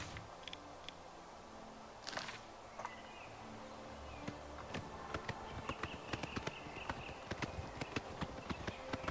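Rapid, steady hoofbeats of a galloping horse being ridden in the video game Oblivion Remastered, a continuous clattering rhythm over a low ambient background with no talking.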